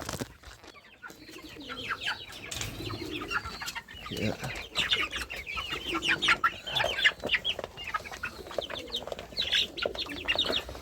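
Chickens cluck and chatter continuously close by at feeding time, several birds at once with scattered scratching and movement.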